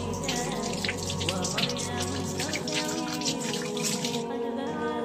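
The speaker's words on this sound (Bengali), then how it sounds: "দুই হাতের কবজি সহ ভালো করে ধোয়া" Water running from a tap over hands being washed up to the wrists during wudu, a steady close splashing and trickling that continues throughout.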